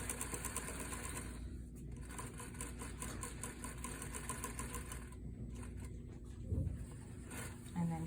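A sewing machine back-stitches a dart on a shirtdress, running as a steady, close mechanical whir with a rapid stitching rhythm throughout.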